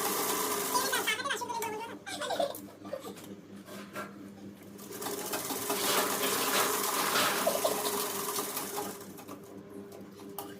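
Sewing machine stitching the side seam of a pleated salwar, a rapid mechanical whir running in bursts with short pauses and fabric handling between them, close by, under a faint voice.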